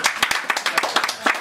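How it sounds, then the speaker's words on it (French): Lively applause at an engagement ceremony, several nearby people clapping in quick uneven bursts for a brief moment. "on peut applaudir, s'il vous plaît"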